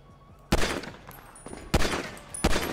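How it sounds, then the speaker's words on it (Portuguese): Gunfire in the video game GTA 5, aimed at a missile: a few sharp, loud shots in separate bursts, with a pair close together near the end, ringing over a low background hum. "Eu vou dar um tiro naquele míssil, velho"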